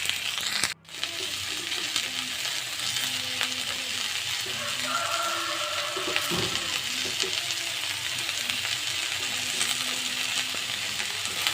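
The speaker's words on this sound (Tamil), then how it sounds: "வெங்காயம் நல்லா வதங்கட்டும்" Onions sauté in a pan for chicken curry, a low steady sizzle running throughout with scattered light clinks and scrapes of stirring, close up and without speech apart from one brief dropout near the start.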